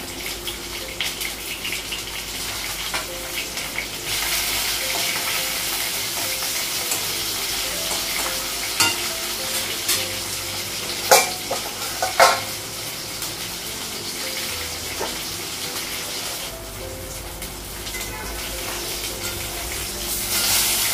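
Fish fries in a hot pan in a home kitchen, giving a continuous loud sizzle with a few sharp clatters partway through as the pieces are moved.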